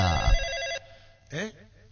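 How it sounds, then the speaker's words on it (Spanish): A telephone rings once as a sound effect in a Spanish-language radio football show, a loud electronic trill lasting under a second, followed by a brief spoken word. "¿Teléfono?"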